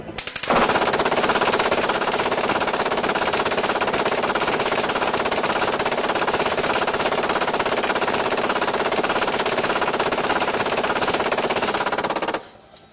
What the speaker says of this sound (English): In this demonstration, an M240 is used to strike a simulated exposed target.